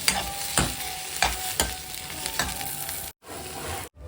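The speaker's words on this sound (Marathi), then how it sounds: "त्यात आपण टोमॅटो घालूया टोमॅटोला छान परतून घेते" Loud, continuous sizzling of tomatoes sautéing with browned masala in a hot pan for Khandeshi sev bhaji, with regular stirring scrapes about every half second, no voices, and two brief cutouts toward the end.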